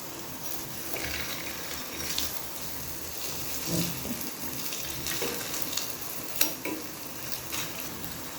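Urad dal vada batter fries in hot oil with a soft, steady sizzle and bubbling. A few brief clinks and splashes break through, and no voices are heard.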